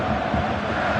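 Stadium crowd noise from a football video game on PS4, a dense, steady roar with no breaks, loud and continuous throughout, no speech.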